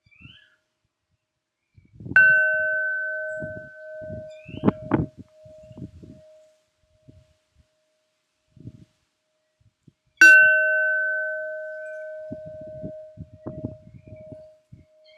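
A bell rung during a rune reading strikes twice, several seconds apart, each a clear ringing tone that slowly decays in a quiet room amid soft rustling and handling noises.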